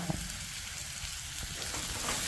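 Ginger and sliced green chillies fry in hot oil for puli inji, giving a soft, steady sizzle and crackle that stays faint and even, with no talk.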